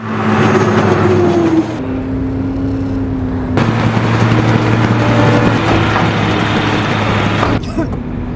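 Engine of a tow truck hauling a car on the road, a steady loud motor drone with sustained low hum and small shifts in pitch, continuous throughout with a brief drop near the end.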